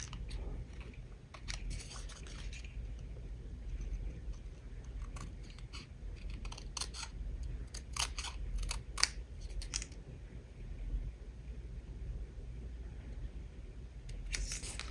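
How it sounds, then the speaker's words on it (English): Scissors snip through a card-stock waffle cone piece, trimming both sides off with a run of quiet, close, crisp cuts. "I'm just going to carefully trim these 2 sides off because I just want it to be an ice"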